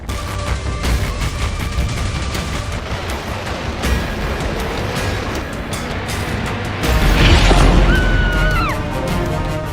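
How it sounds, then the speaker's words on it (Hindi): Explosions from Iranian missiles striking targets in Israel, rumbling heavy booms and crashes over a roaring backdrop, with a louder deep blast late on, distant and harsh. "इजराइल ने ईरान की मिसाइलों के हिट होते देखा है।"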